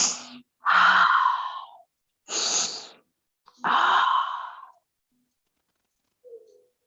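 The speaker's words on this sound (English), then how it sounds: "Breathing." Slow, audible breaths during a yoga stretch: four long sighing exhales in an unhurried rhythm, close and fairly loud, followed by a faint short breath, with no talking.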